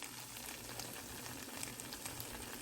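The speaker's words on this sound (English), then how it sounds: "I'm going to boil this until there is no liquid" Liquid with butter, salt and pepper boils in a pot, a steady, faint hiss of bubbling and light crackling that continues without pause.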